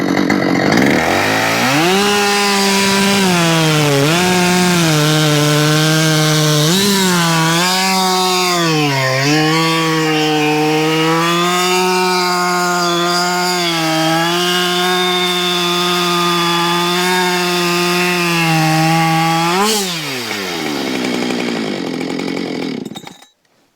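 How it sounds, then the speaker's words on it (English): A new Husqvarna chainsaw cuts through wood, its engine loud and close, revving up and bogging with each pass, then holding a steady high whine for about twenty seconds before it winds down and stops. "We could get a slice through that and see what happens with the new saw."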